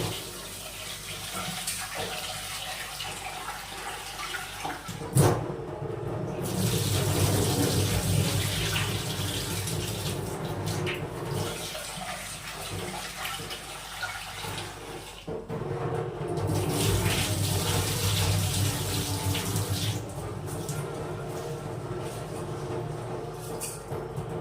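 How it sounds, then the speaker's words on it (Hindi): Rice being washed and soaked in running water in a home kitchen, a steady splashing and trickling that swells and eases over several passes, fairly close, with no talking. "अब मैं चावल धो लेता हूँ।"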